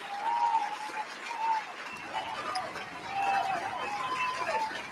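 Applause from a clap track on a talk show, a steady wash of clapping with crowd chatter running through the whole stretch at moderate level.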